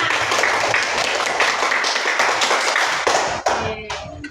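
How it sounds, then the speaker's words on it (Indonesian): Students in a classroom clap their hands together in a lively burst of fast, overlapping claps that trails off into scattered final claps. "Tepuk tangan buat kita semua."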